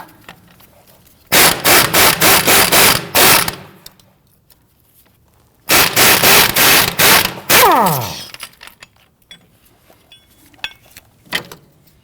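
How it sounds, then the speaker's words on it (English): A ratchet works the 15 mm nut holding the sway bar to the front strut of a 2009-2017 Volvo XC60, producing two loud, close runs of rapid, pulsing mechanical whirring, each lasting a couple of seconds. Scattered faint clicks fill the gaps. "Loosen and remove the 15 millimeter nut holding the sway bar to the strut."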